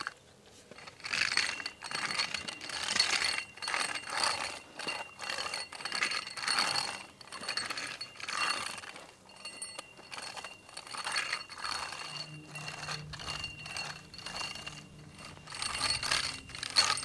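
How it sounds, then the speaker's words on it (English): A handheld lawn aerator works yard soil, giving repeated ratcheting, clicking mechanical strokes with scraping in a steady rhythm, close and moderately loud, with a low hum entering near the end. "I've got this handheld tool here. It's gonna aerate a little bit"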